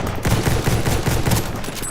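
A rapid series of heavy double-barrel shotgun blasts in Battlefield 1 rings out close and loud, several blasts in quick rhythm over about two seconds with no talking.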